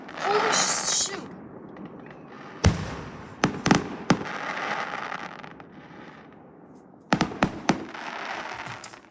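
Fireworks explode outside a house on a December night: a loud whooshing crackle, then several sharp, close booms in quick clusters over a steady rumbling background.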